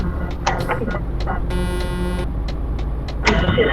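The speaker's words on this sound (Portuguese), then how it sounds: "ouve só minha buzina. Parece peidinho, velho." Truck horn in Euro Truck video game, a short honk sounding over engine drone, with brief clicks and taps around it, while people talk in the background.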